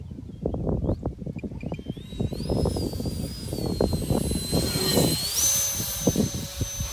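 An Art Tech F18 RC model jet makes an upside-down pass into the wind, a thin whining turbine tone rising and sweeping past over loud gusty wind noise outdoors in the cold.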